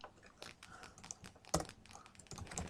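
Keys clack on a computer keyboard in quick irregular bursts, close by, with one sharper louder keystroke midway and no talking.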